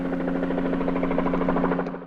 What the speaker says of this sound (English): here comes the Deus Ex Machina helicopter brigade to save the day